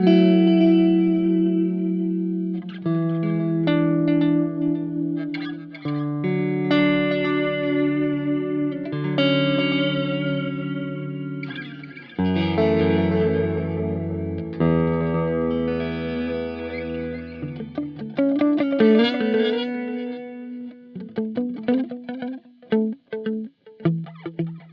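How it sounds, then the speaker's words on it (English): An electric guitar runs through a Line 6 HX One set to a mod chorus echo delay, playing sustained chords and notes that shimmer and repeat in stereo, ending with a run of quicker plucked notes that fade into trailing echoes. "That mod chorus echo was really nice"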